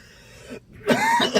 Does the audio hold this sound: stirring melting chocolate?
no